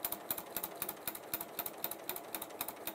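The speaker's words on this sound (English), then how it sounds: "I'm just going to stitch across it." Sewing machine stitching across fabric binding, a fast steady mechanical clatter of needle strokes, close and even in rhythm, with no voices.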